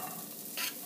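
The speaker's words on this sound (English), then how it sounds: "grab onions and put them in the pan so they saute like so." Onions sautéing in olive oil in a pan give a short, faint, steady sizzle that swells briefly brighter midway, heard alone without talk.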